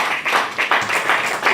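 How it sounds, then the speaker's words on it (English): Brief round of audience applause at a student project and staff innovation competition, a short run of clapping with uneven pulses that is fairly close and moderately loud. "Please, a round of applause again."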